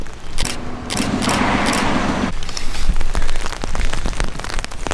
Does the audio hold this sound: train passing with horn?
no